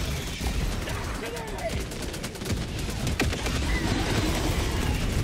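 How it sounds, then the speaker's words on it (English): Rapid gunfire from a turret shooting at the player in Helldivers 2, dense bursts and booms layered in a loud chaotic battle with continuous rattling shots. "This goddamn turret's trying to kill me."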